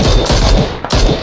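Gunfire in PlayerUnknown's Battlegrounds rattles loud and close as a dense automatic burst, with rapid shots and a brief gap before it resumes.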